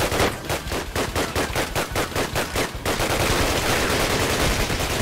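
Rapid automatic gunfire in a video game battle, loud and close, first as distinct bursts of shots for about three seconds and then as a dense continuous roar of fire.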